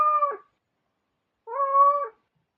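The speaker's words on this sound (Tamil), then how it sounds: "அந்த வெள்ளை பூனை வந்து அடிக்கும்" A white cat meows twice, close and clear, a short call followed after a pause by a longer, drawn-out one.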